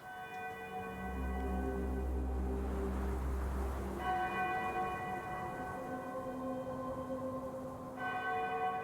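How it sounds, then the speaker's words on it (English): Church bells ring out loud and steady over a castle city, a sustained wash of layered tolling tones with a deep low rumble beneath that fades after the first few seconds. "The bells continue."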